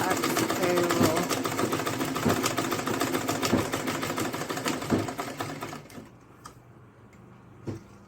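Sewing machine stitching an Ankara fabric purse, a steady close mechanical chatter that runs for about six seconds before stopping, with a light tap near the end.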